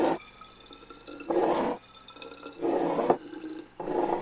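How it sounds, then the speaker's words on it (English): Juice poured into small serving-size bottles, several short gurgling pours separated by pauses, close and soft, with no voices. "I pour juice into serving size bottles."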